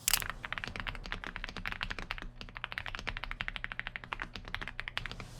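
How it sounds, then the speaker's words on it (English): Typing on a stock Aula F75 mechanical keyboard fitted with linear Reaper switches, a fast run of crisp, close clacks and thocks in an uneven rhythm, heard alone without talk. "I went with the linear Reaper switches, and my goodness, they feel and sound so nice to type on."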